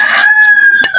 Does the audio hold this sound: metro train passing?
no